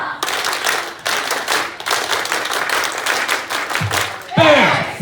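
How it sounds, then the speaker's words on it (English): An audience of grades 5 to 8 students claps and cheers in a lively burst of applause that rises and falls, with some shouting voices near the end. "Give yourself a round of applause"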